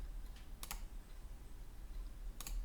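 Two quick clicks of a computer mouse while modelling in Plasticity 3D software, crisp and close against a quiet background, spaced about two seconds apart.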